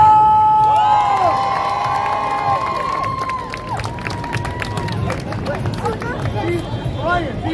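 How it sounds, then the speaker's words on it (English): Street crowd cheering and shouting for a performer on Fifth Avenue toward Times Square at night, loud, close excited voices with whoops and yells layered over general babble. "Make a lot of noise for Raya!"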